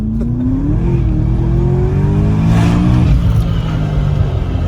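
A heavily smoking BMW X3 diesel accelerates hard, its loud engine note climbing steadily in pitch and then levelling off, with a continuous rushing roar and no talk.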